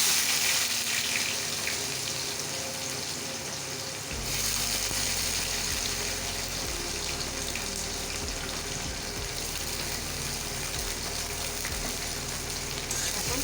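Sliced onions fry in hot oil in a pan for a thin mutton curry, browning with a continuous loud sizzle and crackle that holds steady, interrupted only by a brief dip early on.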